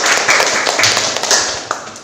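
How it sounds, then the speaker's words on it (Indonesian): Students in a school classroom applaud for a classmate named Jimmy, a brief, bright burst of many hands clapping together, steady and fairly loud, fading slightly at the end. "Silakan anak-anak boleh beri tepuk tangan untuk Jimmy"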